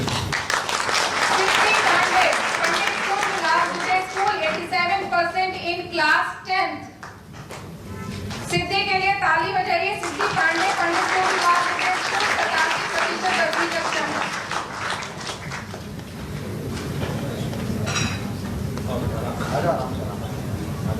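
At a school education and health programme in Raipur honouring students, an audience claps in broad, sustained bursts that swell and fade, mixed with a voice speaking over a loudspeaker.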